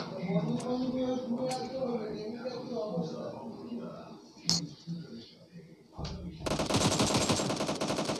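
Rapid automatic gunfire in a mobile shooter video game, a few single shots early, then a dense loud burst of fire toward the end, with someone talking throughout.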